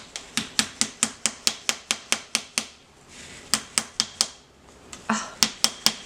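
Hammer blows strike a tulip shower steamer mold in a fast, regular series of sharp, close knocks, pausing briefly before more rapid strikes resume.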